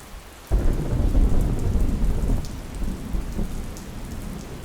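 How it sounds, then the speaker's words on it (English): Steady rain falls close by, with a low rumble of distant thunder rolling beneath it. The rain comes in suddenly and keeps a dense, even hiss throughout, with no voices. "Take in the quiet rain and the distant thunder."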